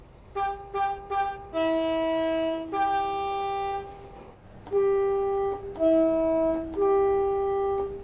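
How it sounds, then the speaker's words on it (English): A locomotive horn in the Train Sim World game sounds in a series of sustained chord blasts, a few short toots first and then longer held notes, loud and clear with no talk over it. "Let's listen to the sound of the horn."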